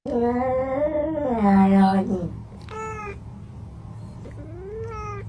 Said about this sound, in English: So this is the conversation between two cats, right?